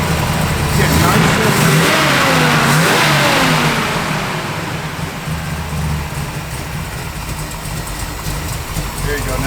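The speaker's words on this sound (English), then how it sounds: "Now I can hear that cam working." A 1969 Chevrolet Camaro V8 with an aggressive cam revs up loudly, then settles into a lopey idle, with a voice talking over the engine throughout.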